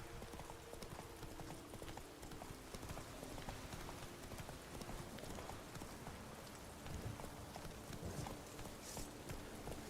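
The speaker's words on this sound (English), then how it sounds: "Run, Roach." A horse galloping in the video game The Witcher 3: Wild Hunt: steady, rapid hoof clip-clops that run continuously and fairly quietly, over a hissing rain-like ambient wash.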